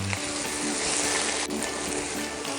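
Chopped onions sauté in a pan with ginger for mussel adobo, giving a continuous, fairly loud, even sizzle and crackle throughout with no talking.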